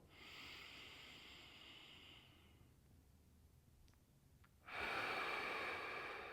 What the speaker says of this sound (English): Breathe into the belly.